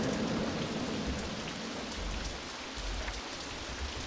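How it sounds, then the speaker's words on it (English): Steady rain falls in RollerCoaster Tycoon 3, a dense, even hiss of drops hitting surfaces that holds at a constant level throughout, with no voices. "Oh, it's raining."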